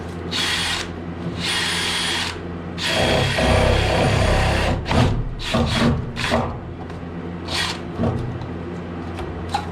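A power drill whirs in several loud, close bursts, revving up and winding down between drilling passes into ICF block wall for electrical chases, with no talking.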